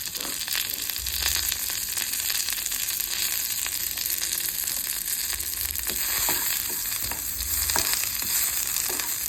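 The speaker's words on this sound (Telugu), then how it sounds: "ఇప్పుడు అదే ప్యాన్లో మిగిలిన ఇంగ్రీడియంట్స్ వేసుకొని రెడ్డిష్ బ్రౌన్ వచ్చేంత వరకు ఫ్రై చేసుకోవాలి." Ginger chutney ingredients fry in a pan until reddish brown, giving a steady close sizzle broken by occasional scraping and stirring clicks, with no voices.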